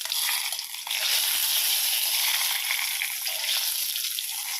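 Cooking oil sizzles and crackles in a pan while preparing duck curry, a bright, continuous frying hiss heard up close, with a brief dip before the sizzle surges and holds steady.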